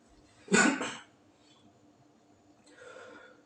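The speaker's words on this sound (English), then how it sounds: "I've been coughing a lot." A single harsh cough close to the microphone, followed by a softer breathy exhale, in an otherwise quiet room.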